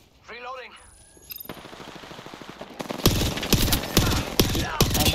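Rapid automatic gunfire rattles in a video game shooter, building from faint distant bursts to loud close volleys with sharp repeated cracks, while a voice talks early on.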